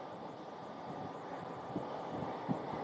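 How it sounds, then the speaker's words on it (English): An Embraer Phenom jet just after landing at Scottsdale, heard as a steady, distant engine roar blended with wind noise, with a couple of faint thumps. "The Embraer Phenom just landed"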